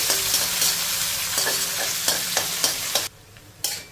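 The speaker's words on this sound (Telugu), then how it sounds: "ఈ ఉల్లిపాయ ముక్కల్ని ఒక 2 నిమిషాలు ఫ్రై చేసేసుకోవాలి." Onion pieces with a few curry leaves fry and sizzle steadily in a pan, broken by a series of sharp stirring scrapes and clinks; the sizzle drops away briefly near the end before another scrape.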